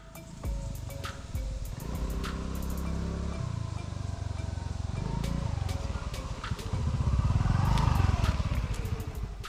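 A motorcycle rides over an off-road track toward beach parking in Goa, its engine droning steadily and rising toward the end, with rattling and clatter from the rough ground.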